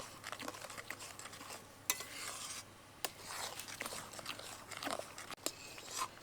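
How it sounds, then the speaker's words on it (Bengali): Mango pulp with salt and sugar stirred in a pan for aamsotto, close scraping spoon strokes over a soft sizzle, with a few sharp knocks against the pan, no talk. "লবণ আর চিনি দিয়ে খুব ভালো করে নেড়ে নেব।"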